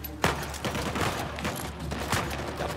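Rapid bursts of machine gun and pistol fire from the video game Uncharted 4 crackle in quick succession, loud and dense with sharp individual shots punctuating the stream.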